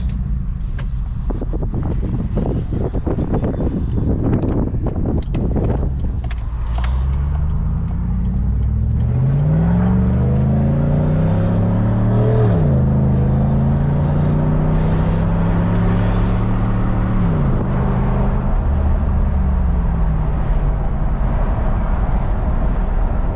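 A rumbling straight-piped 2015 GMC Sierra exhaust accelerates, heard from inside the cab with all windows open, a loud droning roar climbing and shifting under wind noise, with no talking.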